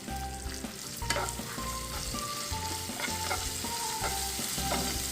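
Ginger, garlic, green chillies and tomatoes frying in oil in a pan for peanut chutney, a continuous close sizzle broken by frequent stirring scrapes and clinks of a spoon against the metal.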